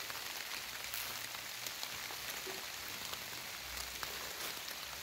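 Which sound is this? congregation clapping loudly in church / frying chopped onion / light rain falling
light rain falling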